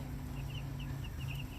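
Young meat chickens in a farm brooder pen give faint, scattered high peeps and soft clucks over a steady low hum, continuous and fairly quiet throughout.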